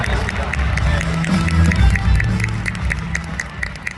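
A convention audience claps and cheers in a dense, sustained burst of applause that gradually tapers off.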